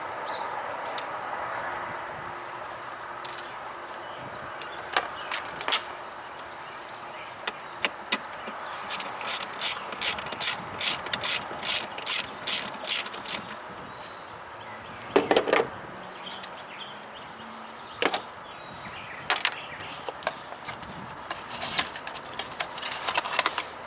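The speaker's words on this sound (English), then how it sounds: "The 10 millimeter is all you need. To remove the two bolts." A ratchet with a 10 mm socket works loose two bolts on a Chevy TBI fuel pump relay, making quick bursts of sharp, rapid clicks in close, fairly loud runs, with scattered single clicks and handling knocks between them.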